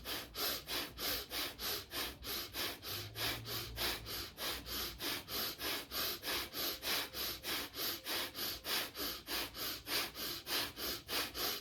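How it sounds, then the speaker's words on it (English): Rapid breath-of-fire breathing exercise: sharp, machine-like exhales through the nose repeat steadily at about three per second, close and alone, with no talking. "it's fast and it's like a machine. So let's start breath of fire here."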